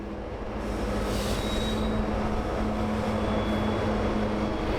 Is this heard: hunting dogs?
no